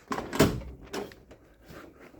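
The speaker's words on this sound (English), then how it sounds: "Open up the door." A few soft clunks and rattles of a classic car's door being opened, quiet and close, spread over a couple of seconds.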